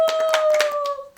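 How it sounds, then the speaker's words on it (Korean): Audience clapping in welcome of two broadcast guests at a live political talk event, a short burst of scattered hand claps over a steady tone, fading out near the end. "여러분 환영의 박수 부탁드립니다"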